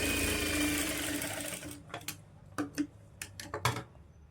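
A sewing machine stitches a blouse lining, running in a steady whirring burst for the first second and a half, then giving several short separate stitching bursts and ticks, close and moderately loud.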